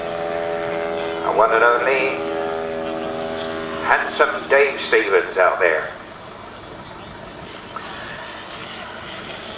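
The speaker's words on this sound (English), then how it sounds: "This is the huge, biggest aircraft of the show here, look." A large model aeroplane flies at an outdoor air show, a steady droning propeller hum in the background while a voice speaks briefly over it.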